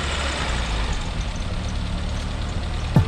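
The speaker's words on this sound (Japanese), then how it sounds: "あ、いいっすよ、エンジンかけちゃって" A flood-damaged Lancia Delta idles after being started, a steady low engine hum with a brief sharp knock near the end.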